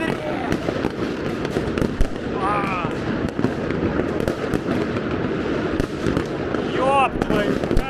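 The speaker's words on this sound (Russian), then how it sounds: "Пиздец, салюта!" Festive fireworks burst over Georgia during a celebration, a rapid string of sharp cracks and booms with whistling rockets rising, loud and continuous, with excited voices talking and exclaiming underneath.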